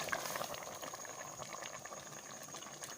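Cowhide boils in a pot of water for a Thai curry, giving a steady, faint bubbling and simmering that runs continuously without any voices.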